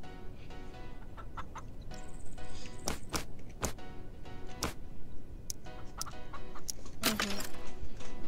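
Chickens in a farm video game cluck in short, repeated bursts, broken up by sharp clicks and taps, fairly close and with no talking over them.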